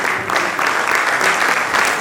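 An audience at a stage play for a foundation day event applauds steadily, dense clapping sustained throughout with no talk over it.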